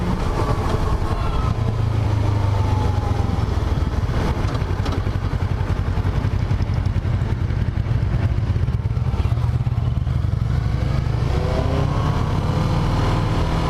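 A motorcycle engine drones steadily on the road at night, low rumble with changing pitch, fairly close and continuous throughout.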